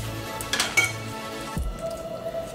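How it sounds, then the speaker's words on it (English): A metal noodle strainer clanks and clinks against a pot as fresh pho noodles are drained from boiling water in a home kitchen. A few close, loud knocks are followed by quieter rattling, with no talking. "This is where your noodle strainer comes into works magic."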